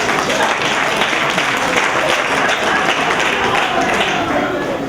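Audience clapping at a breast cancer awareness event, a loud, continuous roar of applause from a large crowd, unbroken and even throughout with no pauses.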